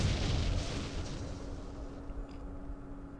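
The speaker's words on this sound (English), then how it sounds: "Ah, the recoilless rifle." A recoilless rifle fires in a Middle East wargame, a heavy boom at the start whose low rumble and reverberant tail slowly fade over the next few seconds, with no voices.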